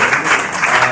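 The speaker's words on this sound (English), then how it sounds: "let's give her an applause for it." A short burst of audience applause at an impact event, loud and dense throughout, with no voices over it.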